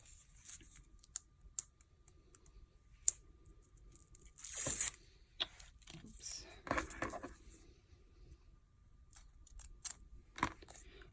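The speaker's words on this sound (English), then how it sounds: "I'm going to pull off some more foam tape" Foam tape pulled off a roll while making a birthday shaker card, quiet scattered tearing and crackling bursts with small clicks and rustles, one longer rip near the middle.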